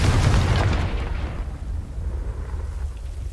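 A Confringo fire spell blasts in the Hogwarts Legacy video game: one loud, booming explosion that rumbles and slowly fades over about three seconds, with no talking.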